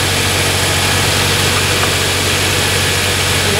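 A car engine idles just after a jump start with jumper cables, making a loud, steady, even rumble that stays constant throughout with no voices.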